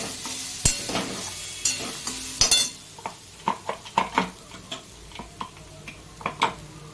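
Grated coconut dry-roasted in a pan for a Kerala ulli theeyal masala, with repeated metallic scraping and stirring taps over a low pan hiss, steady and close.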